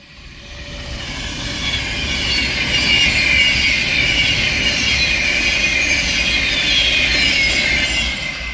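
A Class 390 Pendolino electric train on the West Coast Main Line at Heaton Chapel, an Avanti West Coast service from Northampton to Manchester Piccadilly, passes steadily with a broad rushing roar and rail hiss that swells in and holds strong throughout.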